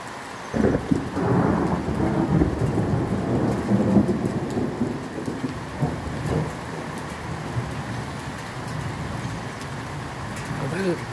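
Thunder rumbles in Boquete during the Central American rainy season, a loud rolling peal that swells early and slowly fades beneath steady rain, with a few faint birds in the background.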